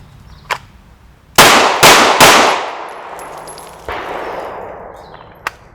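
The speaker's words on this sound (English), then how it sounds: "we're going to see what kind of hits I can get from retention and what kind of hits I can get just shooting one-handed" Glock 19 pistol fired one-handed, three sharp, loud shots in quick succession with echoing decay, followed by a fainter fourth report and a small click near the end.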